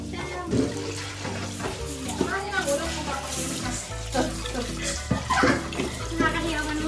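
Water is poured into a cooking pot in a Filipino kitchen, a continuous splashing rush running under lively conversation and background voices.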